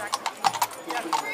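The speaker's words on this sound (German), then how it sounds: "bei mir sind Pferde und Kutsche." Horses pulling a carriage in a horse-market parade give several crisp clip-clop hoofbeats on pavement at close range, while a voice talks over them.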